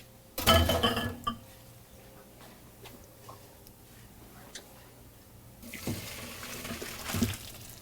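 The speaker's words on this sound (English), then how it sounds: "So go ahead and drain my pasta." Cooked pasta is drained into a kitchen sink: a burst of pouring water and clinks at the start, quieter clatter, then a second stretch of running water near the end.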